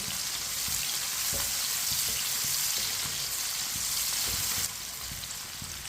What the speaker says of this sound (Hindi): प्याज को अच्छी तरह मिक्स कर लेंगे